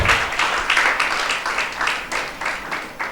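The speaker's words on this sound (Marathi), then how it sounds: "थोडा टाळ्या वाजवा, जरा टाळ्या वाजवा" A church congregation applauds during a Mother's Day sermon: dense, sustained clapping from many hands, loud and continuous throughout with slight swells, and no voices over it.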